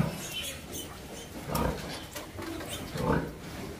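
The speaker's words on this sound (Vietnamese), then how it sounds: "heo của mình tiếp tục là đẻ ra con thứ 8 nè các bạn" Vietnamese farm pen where a young first-litter sow is giving birth, her eighth piglet just born; low grunting and rustling with a couple of louder squealing bursts, close by, no talk.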